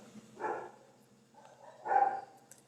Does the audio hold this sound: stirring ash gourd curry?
no